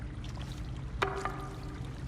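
Water pouring and splashing in Silent Hill f, a soft trickling bed with a sudden bright splash about halfway through followed by a short ringing tone, fairly close, no voices.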